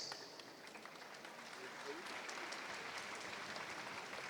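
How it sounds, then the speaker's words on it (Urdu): Audience clapping at a youth convention on Kashmir solidarity, a dense, fairly even patter of many hands that carries on steadily throughout, moderately loud, with faint crowd noise underneath. "تالی زور سے بجائیے، فائدہ ہوگا."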